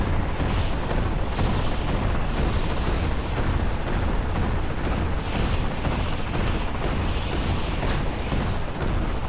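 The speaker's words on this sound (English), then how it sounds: "it's a case of mopping up with the 20mm cannons" Continuous, dense rapid-fire 20mm cannon bursts in a video game battle, with booming impacts, loud and relentless, like heavy automatic weapons in a chaotic battle.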